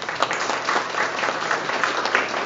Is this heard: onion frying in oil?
no